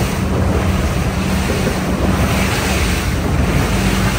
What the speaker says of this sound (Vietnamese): Chỗ cửa biển này, chỗ này lúc nào cũng sóng dữ